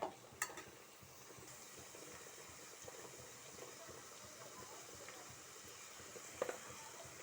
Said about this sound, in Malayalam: മിക്സ് ചെയ്ത് കൊടുക്കാം നന്നായിട്ട് ഇളക്കി കൊടുക്കാം